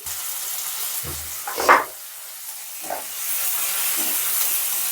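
Onions frying lightly in a pan with chopped tomato and turmeric for a moong dal made with katla fish head, giving a soft steady sizzle and hiss with a few brief louder stirring bursts.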